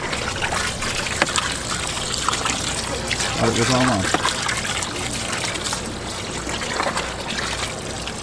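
Water runs steadily into a container of crawfish being purged at a campsite boil, a constant close splashing trickle with people talking over it.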